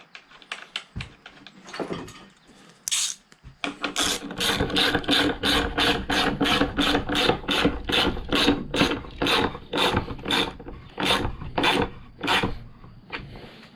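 A socket wrench ratchets a bolt tight on a 55-gallon fuel barrel storage stand, giving a long, steady run of sharp, evenly spaced clicks up close after a few scattered handling knocks.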